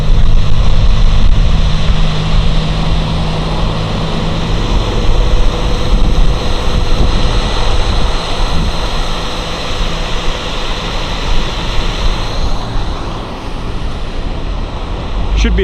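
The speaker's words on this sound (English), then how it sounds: "Little waterfall." A small waterfall outdoors at Mammoth Lakes gives a loud, constant rushing roar of water, broadband and unbroken, with some wind buffeting on the microphone.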